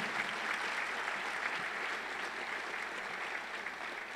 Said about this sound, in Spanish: Y cierre eso con un aplauso, por favor.